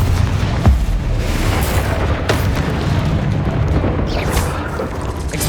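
Spell blasts from Bombarda and Confringo in the wizarding game Hogwarts Legacy, a dense run of heavy booming explosions with sharp bursts at intervals over rumbling low-end noise, loud and close with no talk.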